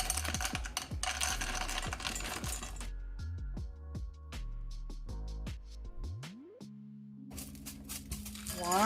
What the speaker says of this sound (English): I'm going to measure out 2 cups of peanut